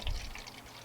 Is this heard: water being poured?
yes